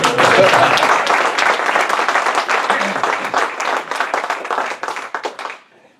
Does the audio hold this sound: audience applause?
yes